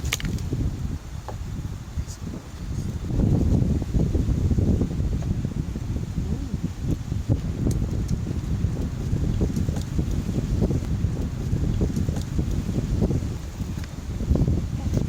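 Wind gusts through a cold, rainy campsite at night, a steady rushing roar with rustling and microphone buffeting throughout.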